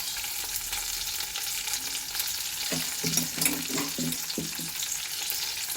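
Onions and curry leaves fry in hot oil for a poori masala curry, a steady close sizzle throughout with a series of short clattering stirs partway through.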